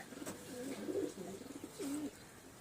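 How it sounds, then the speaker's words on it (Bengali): Pigeons at a rooftop loft coo in low, soft murmuring phrases, two longer coos standing out against quiet background. "উপরে পায়রাটা দেখুন"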